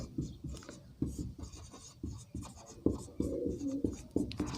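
A pen scratching on paper during a math lesson, close and fairly quiet, with short rhythmic strokes and pauses, and a brief murmur of voice near the end.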